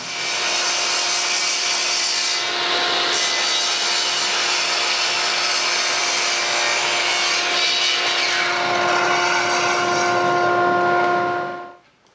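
A power saw cutting wood stock at a 45-degree angle for a Celtic knot rolling pin, running loud and steady for about twelve seconds with a constant whine before spinning down at the end.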